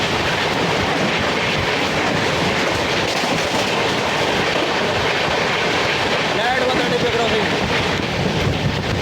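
The Shram Shakti Express rushing past on Indian railway track, a loud, steady roar of wheels and wind that holds throughout, with a voice talking over it.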